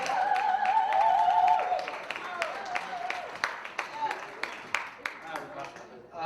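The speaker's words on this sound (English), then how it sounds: "Round of applause." An audience applauds with scattered, uneven claps that thin out over several seconds, while voices talk over the clapping.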